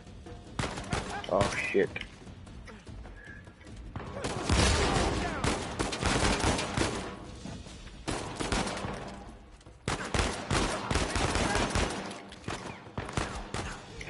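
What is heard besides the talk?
gunfire in Uncharted 4 video game, blind firing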